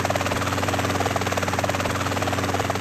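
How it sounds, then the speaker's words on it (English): A helicopter in the video game GTA San Andreas, its rotor beating in a rapid, steady pulse over a constant engine drone, close and loud, with no talking. "By helicopter."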